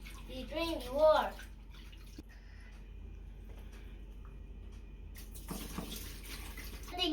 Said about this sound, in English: Putting a flash water to rinse the clothes.